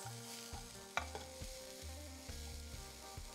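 Red and yellow bell peppers tossed and stirred in a hot pan for a veg burrito bowl, with a steady sizzle, scraping stirs and a few sharp utensil knocks against the pan, close and with no talking.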